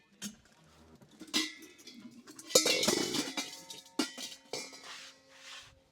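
Metal cooking pots, lids and a biryani pot clank and clink as they are picked up and set down, several sharp knocks spaced irregularly, close by.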